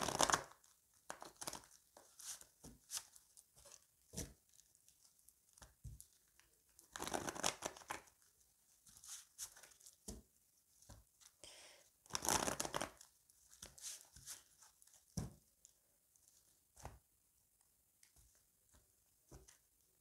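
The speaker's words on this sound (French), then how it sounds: "Je vais la couper en deux parce qu'il y a beaucoup de cartes." Tarot cards cut into two piles and shuffled by hand, with repeated crisp riffling and crinkling bursts of card stock at close range, separated by quieter pauses.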